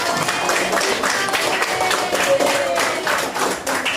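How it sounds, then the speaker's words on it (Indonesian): Schoolchildren in a classroom clap for a classmate, a brief spell of uneven, close-up clapping with faint voices mixed in. "Tepuk tangan dulu untuk Sikra."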